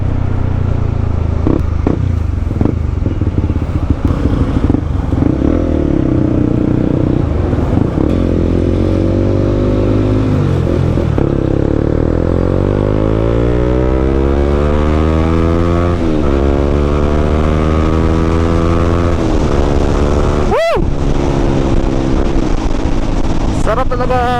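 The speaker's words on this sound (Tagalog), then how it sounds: "Sarap talaga piga-pigain itong CB" Honda CB150X motorcycle engine revving loudly up close, the pitch climbing and falling through repeated throttle pulls and shifts, with a sharp dip near the end before it climbs again.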